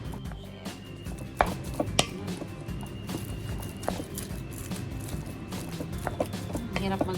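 Boiled potatoes for Japanese potato salad are mashed in a bowl, a run of irregular soft thuds and knocks against the dish over steady background noise, close and moderately loud, with no speech.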